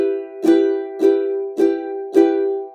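Four evenly spaced downstrums of a ukulele chord, each left to ring out fully without damping, close and clear with no talking.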